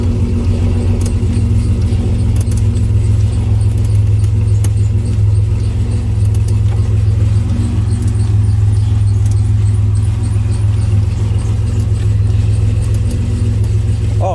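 A 1998 Chevy idles close by while its brakes are being checked after a lock-up fault, a steady low engine rumble that runs continuously without revving, with a faint jingle of keys.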